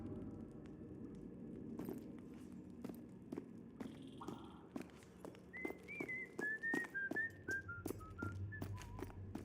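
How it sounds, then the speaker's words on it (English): A whistle in a video game sounds as a run of short, clear, rising trill-like notes repeated through the second half, over a steady low background hum with soft footstep or hoof-like taps. "can we get a different whistle for a different area of the world?"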